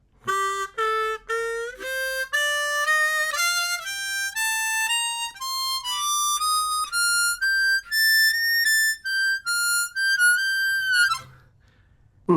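A JDR Trochilus diatonic harmonica plays a slow ascending natural minor scale from the 2 draw, one clear sustained note at a time with short breaks between, then stops.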